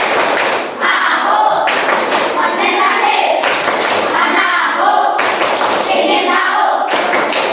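Children in an Indonesian primary classroom perform a concentration clapping game, giving repeated loud bursts of hand claps in a quick rhythm that stop and start in groups, close by and filling the room.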